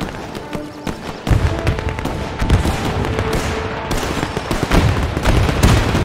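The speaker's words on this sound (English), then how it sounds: "Can you hear that? Shooting." Gunfire in the World War II strategy game Men of War II: dense, loud bursts of automatic fire mixed with single cracking shots and distant booms, crowding together in a near-constant battle din.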